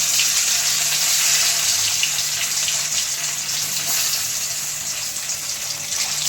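Coral fish sizzling as it goes into hot oil with nigella seeds, a steady loud hiss of frying that holds evenly and eases off slightly toward the end, with no talking.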